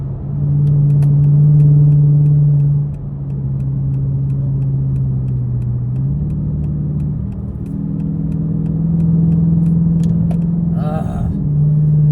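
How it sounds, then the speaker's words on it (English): A car sits in slow traffic, its engine giving a steady low rumble with road noise that swells and eases slightly throughout. "I wish this car would fucking go."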